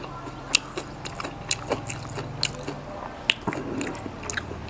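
Crispy fried pork belly is bitten and chewed close up, with a run of sharp crunches and softer squishy chews in a quiet room.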